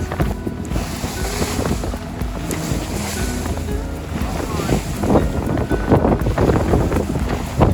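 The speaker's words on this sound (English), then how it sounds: "We had the wind and waves crashing on our face" Strong wind roars across a microphone aboard a boat near Messina, Italy, while waves slap and splash against the hull in uneven bursts, loud and continuous throughout.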